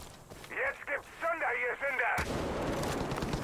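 Gunfire in the video game Far Cry 5, an abrupt loud burst of shots that starts partway through and keeps roaring to the end, following a stretch of voices talking over game sounds.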